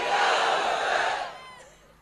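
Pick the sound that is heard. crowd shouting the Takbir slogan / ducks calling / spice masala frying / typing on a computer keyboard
crowd shouting the Takbir slogan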